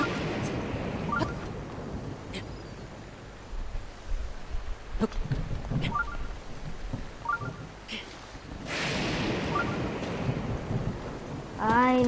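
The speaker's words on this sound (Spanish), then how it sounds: "No, comenzó a llover." Steady rain hisses throughout with low rumbles of thunder in Zelda: Breath of the Wild, alongside occasional short electronic clicks and tones, ending in a brief rising chime.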